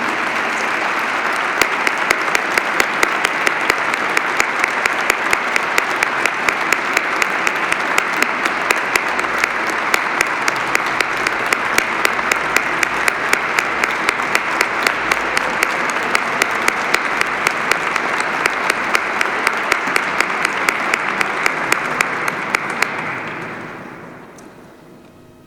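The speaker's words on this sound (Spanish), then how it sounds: "Un aplauso para ello." Sustained loud audience applause at a Holy Week proclamation event in Callosa de Segura, dense clapping from a large crowd lasting over twenty seconds before fading out at the end.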